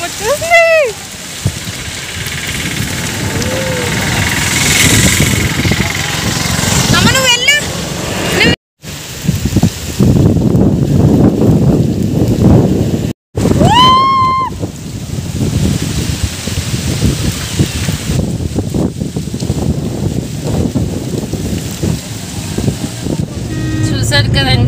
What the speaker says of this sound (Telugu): చాలా పెద్ద గాలి దుమ్ము అనేది వచ్చేసింది